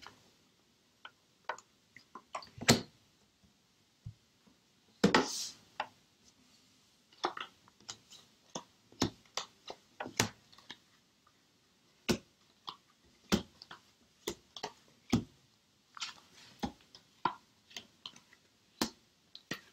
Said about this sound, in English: Let me spread the cards, and then I will show you the cards.